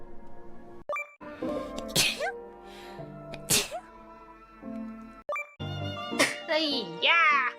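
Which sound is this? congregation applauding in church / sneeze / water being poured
sneeze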